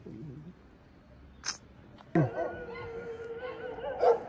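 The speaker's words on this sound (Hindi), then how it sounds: "ये देखिए सामने ये दोनों डॉग सामने देख के भौंक रहे हैं।" Two dogs bark and howl a short distance away near Jim Corbett, India, a sharp outburst that keeps going over steady background noise after a quiet opening.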